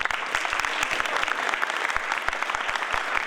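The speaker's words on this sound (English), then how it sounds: "Also like to have you give a big round of applause to all the parents here," Audience applause for parents at a spring signing day event, a crowd clapping steadily with dense, sustained handclaps from start to finish.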